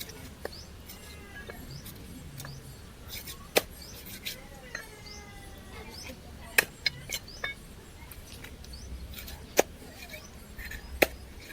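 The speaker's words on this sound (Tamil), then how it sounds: "அவர் ஆனால் சூப்பராக கட் பண்ணுறாரு பாருங்க" A knife chops fish on a board in a home kitchen, making faint, sharp clicks and knocks scattered across the stretch under light background noise with bird chirps and no talk.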